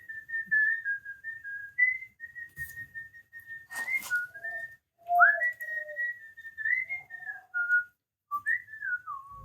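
Someone whistles a holiday tune in a clear, close melody of sustained and gliding notes with brief pauses between phrases.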